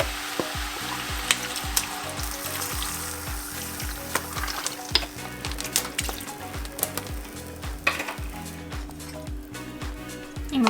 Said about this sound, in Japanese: はい、軽く炒めたらお水を入れたいんですけども